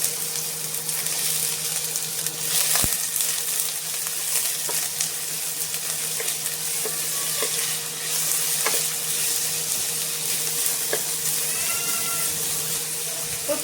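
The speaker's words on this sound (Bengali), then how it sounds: "এবারে দিয়ে দেব পেঁয়াজ কুচি।" Chopped onion fries in hot oil with sugar added for a chicken skin curry, giving a steady sizzle throughout and a few clinks of a stirring utensil.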